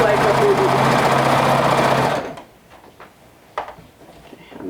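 A sewing machine top stitching a seam on a hoodie runs with a loud, steady, rapid whir for about two seconds, then stops, leaving quiet handling noises and a few soft knocks.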